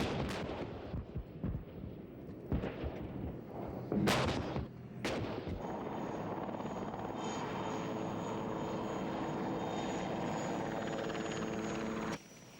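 American combat helicopters fly over a Desert Storm battlefield in 1991, their steady rotor and engine roar filling the scene, with sharp blasts of gunfire or explosions early on before the drone carries on alone.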